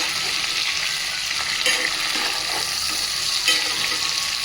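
Pre-boiled chicken fries in oil for a green chicken fry, a loud, steady sizzle with intermittent stirring scrapes, close up and uninterrupted, with no voices.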